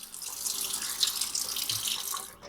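Cool tap water runs steadily from a faucet over cold, refrigerated bacon being rinsed before smoking, a continuous close splashing hiss with no talking.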